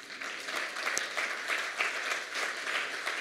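A church congregation applauds, producing a dense, steady wash of clapping from many hands at moderate distance, sustained evenly across the whole stretch.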